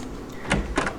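A door opens in a mystery game set in a country house, a brief soft creak followed by two quick clicks of the latch, close and without talk.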